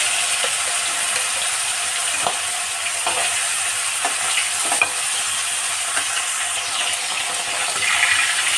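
Magur catfish frying lightly in a pan, giving a continuous bright sizzle with faint scattered ticks and clinks, fairly loud and close, no voices.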